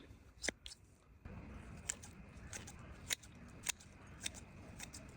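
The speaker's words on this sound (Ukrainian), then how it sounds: "Як ріжуть ножиці." Garden scissors snip several times in sharp, quiet clicks spaced about half a second apart, over a soft background hiss.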